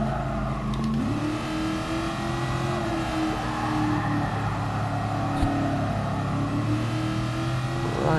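A 1966 Shelby Cobra 427 V8 racing in the game GT Sport, a loud, close engine drone that rises in pitch, shifts near the start and then holds a sustained, throaty roar.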